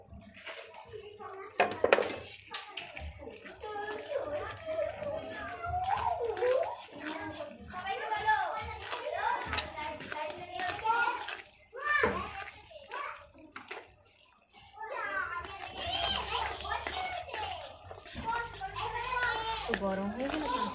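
Children playing and chattering near splashing water, their high voices busy and close over running, gurgling water, with an adult voice talking now and then.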